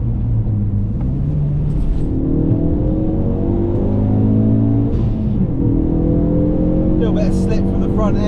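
A Ford Focus ST mk3 engine drones and rises in pitch as the car accelerates and shifts while driving, steady and close inside the cabin, with someone talking over it.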